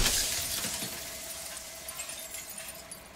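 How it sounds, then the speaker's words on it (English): Glass shatters in Slay the Princess: a bright crash at the opening, then scattered tinkling shards that settle and fade over a few seconds, with no talk. "Jagged shards of broken glass."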